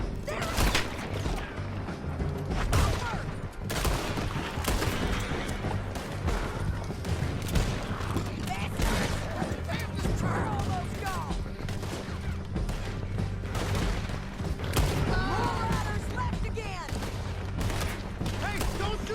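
Rapid gunfire bursts and volleys crack through a dense, loud shootout in the Western video game Red Dead Redemption 2 during a canyon chase, with thuds and crashes mixed in and voices shouting over the shooting.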